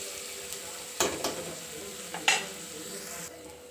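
Masala gravy fries in a pan with a soft, even sizzle, a couple of stirring scrapes and clinks near the start and middle; close, fairly quiet, no talking.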